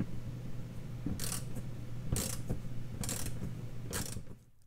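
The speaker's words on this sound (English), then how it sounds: "Next, we're going to get this screw under here. It's a 7 millimeter." A ratchet wrench loosens a 7 mm screw under trim on a Pontiac Solstice, four crisp ratcheting bursts about a second apart over a steady low hum, close and fairly quiet.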